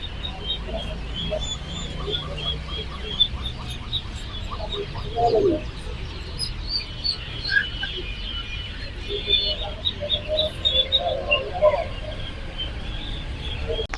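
Duckling, chick and quail chicks chirping at a busy poultry market, thin high peeps scattered and overlapping over a constant murmur of crowd noise.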